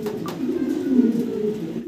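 Pigeons coo in a low continuous murmur close by, a soft throaty burble filling the short stretch without pause.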